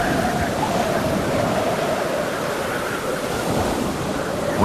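Stormy ocean waves off Cape Horn, where the Atlantic and Pacific meet, roar in a steady, dense wash of surf with gusting wind blowing over it, loud and unbroken throughout.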